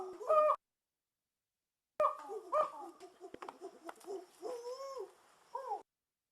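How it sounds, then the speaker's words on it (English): A monkey gives a series of hooting ooh-ooh, ah-ah calls in short rising and falling bursts separated by pauses, clear and fairly close against a quiet background. "Did you hear those ooh, ooh, ah, ah sounds of the monkey?"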